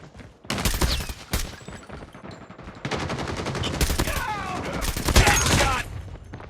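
Gunfire in the mobile game Call of Duty Mobile comes in dense, loud bursts of rapid automatic shots, broken by short pauses, over game sounds and a faint voice.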